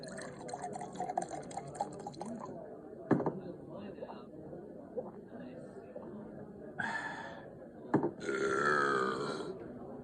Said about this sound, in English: After another big gulp of dark, frothy beer, he lets out a big burp.